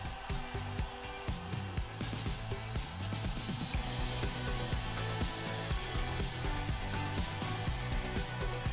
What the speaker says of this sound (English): I don't know what I did with my life before I started using a blow dryer